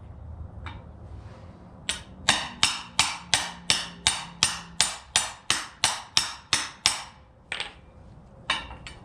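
Steel hammer blows strike a U-joint on a square-body truck driveshaft in a driveway, a fast, even run of about fifteen sharp metallic hits, close and loud, with a few scattered taps before and after.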